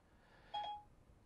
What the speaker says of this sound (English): every time I say series, Siri on my phone triggers